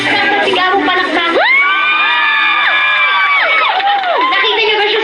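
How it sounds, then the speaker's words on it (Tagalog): A cinema audience at a fan block screening erupts in loud applause, cheering, whoops and high-pitched shouting, a dense crowd roar that swells and holds throughout. "Sigabong palakpak."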